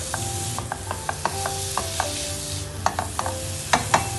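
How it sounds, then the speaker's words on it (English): Mushrooms tossed into a pan with onions and tomatoes, sizzling and frying under repeated scraping and clinking of a utensil stirring, close and fairly loud. "Now I am going to add the mushrooms."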